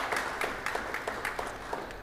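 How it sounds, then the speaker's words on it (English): Audience applause for musicians who just finished sight-reading a piece, a light scattered patter of claps with distinct individual hits, moderately near and fairly soft, with no talking. "Please applaud them."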